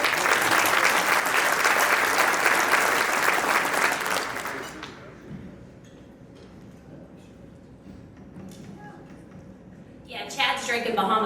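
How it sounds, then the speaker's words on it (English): An audience applauds loudly and steadily for the presenter coming up to welcome new members at the March Rooster Booster, then the clapping cuts off abruptly and gives way to quiet room murmur and a voice near the end. "Let's give her a warm round of applause"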